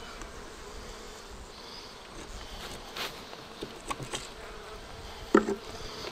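A steady, soft buzzing hum of many honey bees in an open hive fills the background, with a few faint taps and scrapes scattered through it.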